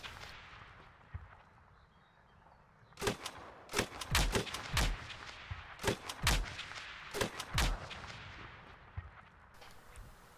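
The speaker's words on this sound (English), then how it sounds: "Let me frag the building so I can get an explosion." Video game combat with mortar rounds and explosions: a series of sharp, loud blasts and cracks that come in bursts after a quiet stretch, some closely bunched and some spaced apart, over a low ambient rumble.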